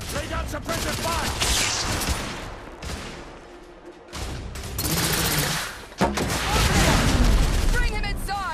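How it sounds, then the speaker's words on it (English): Suppressive gunfire in The Order 1886, a Victorian-era shooter game: sustained bursts of shots and booms roll on through the whole stretch, with shouted voices mixed in. "Lay down suppressive fire!"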